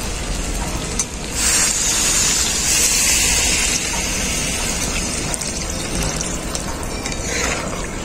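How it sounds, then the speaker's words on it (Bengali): Water poured into a pan of taro cooked down with spices, a steady broadband gush and sizzle running the whole time, swelling louder after the first second and staying fairly even, close by with no talk. "এখন আমি জল দিয়ে দেবো পরিমাণ মতো"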